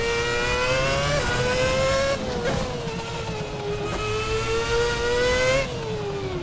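A race car engine in Assetto Corsa at Catalunya revs hard and steadily, its pitch climbing and dipping with gear changes, loud and close, with brief tire noise.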